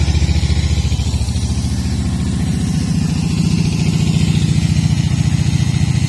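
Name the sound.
Moto Morini 250 motorcycle engine running on a scooter coil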